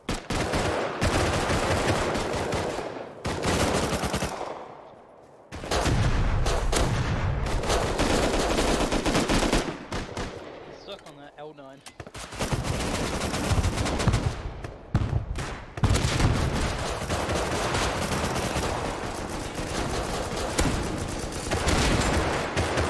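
Loud, sustained gunfire from the video game Rust, dense bursts and automatic volleys rattling almost continuously, with brief gaps between strings of shots.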